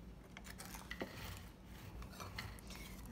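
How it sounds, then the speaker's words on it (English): A spoon stirs a mixture of flour and Greek yogurt for calzone dough in a bowl, giving quiet, uneven scraping with a few light clinks against the bowl. "Stir this up a little bit."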